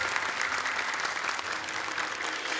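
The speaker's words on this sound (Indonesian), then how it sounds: "Tepuk tangan yang meriah sekali lagi." Studio audience applause fills a televised Indonesian Quran memorization competition, a steady, dense clapping from a large crowd heard close and loud throughout, with no talk over it.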